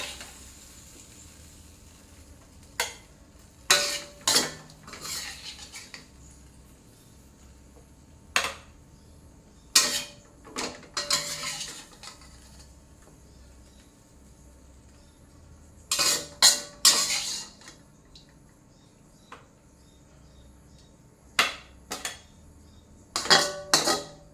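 Stir-fried cabbage in oyster sauce is scooped from a pan onto a plate, with a utensil clattering and scraping against the cookware in irregular bursts separated by quiet pauses. No one speaks.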